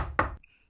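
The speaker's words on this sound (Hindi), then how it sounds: "इतनी अर्ली मॉर्निंग कौन डोर नॉक कर रहा है?" One brief, close knock on a door early in the morning, followed by a faint fading tone.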